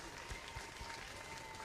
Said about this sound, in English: Garcia, Mr. Cantu, Mr. Nava, and Coach Rod a round of applause, because without them, none of this would be